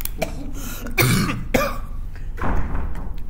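A person coughs a few times in quick bursts, close and fairly loud, with a throat-clearing quality and no speech.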